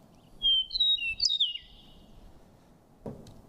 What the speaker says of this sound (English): This is kind of a classic song of the grasslands.